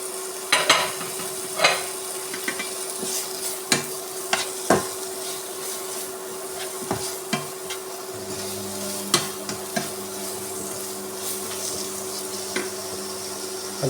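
Tomato is stirred and fried in masala for a Kerala fish roast. A spoon scrapes and taps the pan in repeated sharp knocks over a low sizzle and a steady hum, with no talking.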